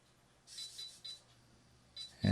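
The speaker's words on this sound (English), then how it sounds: "You can hear it beeping." Small electronic beeps from an Arduino, a quick run of three high-pitched chirps, a pause, then another beep before a low thump at the end.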